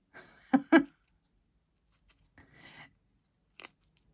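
A couple of quick snips of scissors, sharp and close, followed by a softer cut and one last faint click amid quiet.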